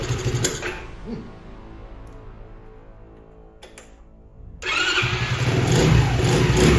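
A Honda CT70 clone minibike (Icebear Champion) engine running off choke, idling and dropping low before a steady louder run picks up, close with a quiet muffler and no speech.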